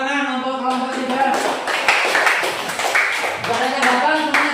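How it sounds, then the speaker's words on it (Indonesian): A classroom of schoolchildren claps for a group, a few seconds of scattered, uneven hand claps mixed with overlapping voices and chatter throughout. "tepuk tangan untuk kelompok 3"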